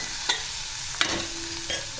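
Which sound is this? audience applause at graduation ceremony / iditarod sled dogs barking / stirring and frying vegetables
stirring and frying vegetables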